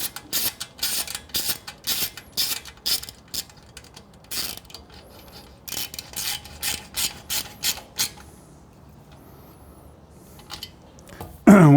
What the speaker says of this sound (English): Use our 5 millimeter Allen, tighten up the heat shield.